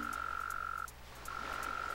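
Mole cricket chirping underground in the video game Animal Crossing City Folk, a steady buzzing trill that pauses briefly and then resumes, heard alone at moderate level.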